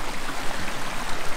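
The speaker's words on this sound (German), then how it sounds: "Schön am Rauschen, die Spree." The Spree river rushing past small watermills, a steady broadband roar of flowing water heard close and continuous without pauses or voices.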